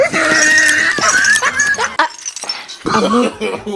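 A dog whimpers and whines in high, wavering cries close by, with short pauses between bursts.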